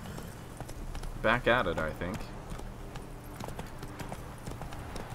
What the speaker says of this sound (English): We took our horse.